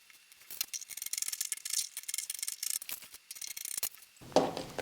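Scissors cutting jersey fabric: a quick series of close, crisp snipping and rustling cuts in an uneven rhythm, ending in a brief thump, no talk.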